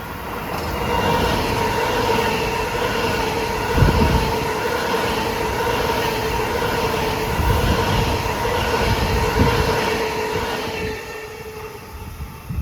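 LIRR commuter train, a dual-mode set, passing Forest Hills station in the morning rush: a steady, loud rumble of wheels and motors with a sustained tonal whine, fading slightly near the end.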